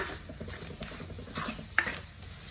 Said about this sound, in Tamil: இது நல்லா சூடாகிற வரை, நல்லா அந்த பச்சை வாசனை போகிற வரை நல்லா வதக்கிடலாம்.